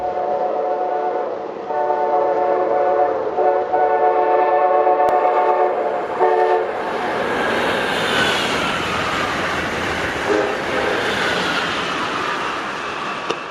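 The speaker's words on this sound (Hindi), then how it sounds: "एस्सेला फिर 135 मील प्रति घंटे की रफ्तार पकड़ती है" An Amtrak Acela train races past at 135 mph, a steady loud rush of wheels and air with horn-like tones early on, swelling into a broad roar as it passes close by.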